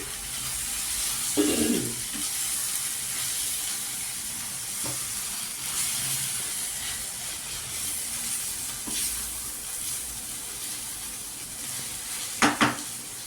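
Chili powder, coriander powder and garam masala are stirred into a prawn curry sizzling in a pan, a steady frying hiss throughout with a few louder scrapes and clinks of the spoon, no talk.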